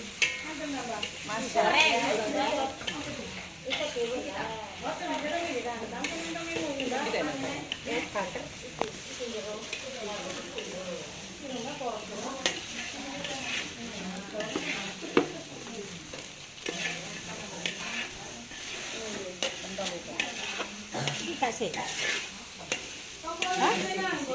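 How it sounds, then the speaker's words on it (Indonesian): Mie goreng noodles stir-fried in a hot pan in a jumbo batch for a feast, a steady sizzle with repeated scraping and tossing strokes, and voices chatting over the cooking throughout. "Proses pembuatan mie goreng."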